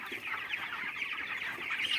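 Chickens cluck steadily and close together on a poultry farm, a dense, continuous chatter of many birds with no talk over it.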